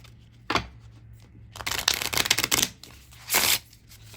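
A stiff, brand-new Lenormand deck is shuffled in several short, crisp riffling bursts, close up, separated by quiet gaps.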